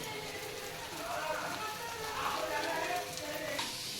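An egg omelette frying slowly in a little oil in a pan, giving a soft, even sizzle that holds steady throughout at low volume.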